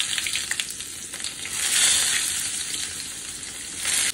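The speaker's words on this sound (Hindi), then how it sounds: "और प्याज को गुलाबी कलर का होने तक फ्राई कर लेंगे" Finely chopped small onions frying in oil for keoti dal, a dense close sizzle with soft stirring, swelling louder in the middle and again at the end.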